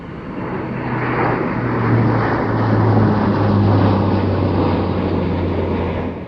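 Airbus A400M military transport aircraft flying past at an airshow, a loud, sustained propeller-engine drone with a steady low hum that swells slightly mid-pass, with no talk.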